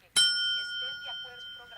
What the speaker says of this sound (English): where we're introduced to Hector Salamanca, a paralyzed member of the cartel who communicates via ringing a bell